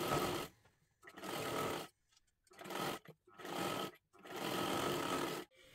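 A sewing machine runs in several bursts while stitching a princess blouse, each run a steady mechanical whir lasting about a second with short quiet gaps between, close and fairly soft.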